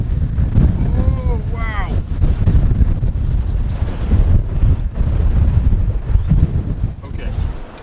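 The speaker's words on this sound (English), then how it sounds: "Love windstorms." Strong windstorm gusts roar across the White Sands sand dunes, a loud continuous rumble that surges and eases throughout, with a person exclaiming briefly over the buffeting wind.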